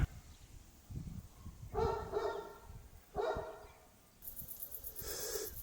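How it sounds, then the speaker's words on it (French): Several dogs bark in a Gagauzian town, in separate bursts at a moderate distance. A higher yipping joins toward the end over faint background rumble. "là je pense que vous entendez les chiens"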